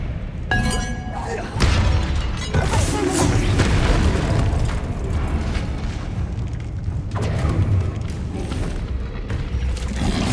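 Expelliarmus spell cast in Hogwarts Legacy video game: a sharp magical crack and shattering burst, then booming impacts and swirling effects that fade and flare again, with a voice speaking over the start.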